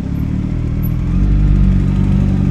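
Motorcycles on a road during a stage race, a loud close engine rumble and clatter that swells midway and holds steady.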